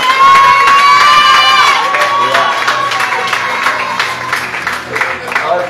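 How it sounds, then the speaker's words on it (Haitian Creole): A congregation at a church service bursts into loud cheering, shouting and applause, with children's high shouts and a whistle-like tone on top, the noise gradually easing while staying lively. "applaudissement."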